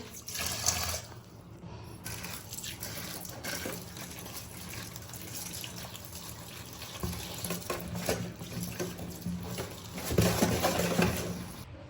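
Fish being washed in a sink, with running tap water splashing and sloshing continuously, swelling in bursts as the pieces are rinsed and handled close by.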